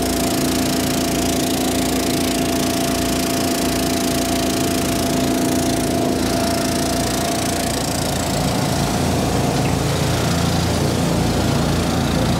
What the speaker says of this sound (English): adjusting the speed of the conveyor